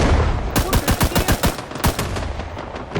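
Rapid bursts of gunfire in the video game Rising Storm 2: Vietnam crack in quick succession, loud and close, pausing briefly before another volley rattles off, with game-like processed sharpness.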